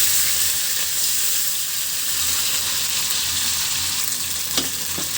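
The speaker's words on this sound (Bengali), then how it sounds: "মাছটা হালকা করে ভেজে নিলেই হয়ে যাবে।" Fish frying lightly in hot oil gives a loud, continuous crackling sizzle close by, with a couple of brief clicks toward the end.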